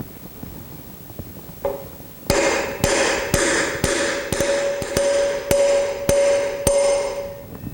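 A metal hammer drives a bearing into a motorcycle front wheel hub about ten times in a steady rhythm, each blow ringing with a sharp metallic ping, close and loud.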